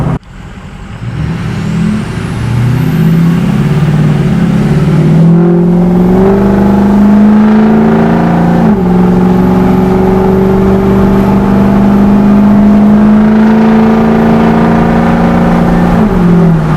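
A 6.0 Powerstroke diesel pickup truck accelerates hard, its engine note rising and then holding loud and close for the whole stretch, with a brief dip partway through as it shifts gears before climbing again.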